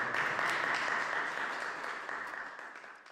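A church congregation applauding together, a dense, steady wash of clapping at moderate distance that slowly fades over a few seconds.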